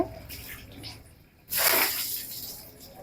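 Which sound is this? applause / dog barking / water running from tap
water running from tap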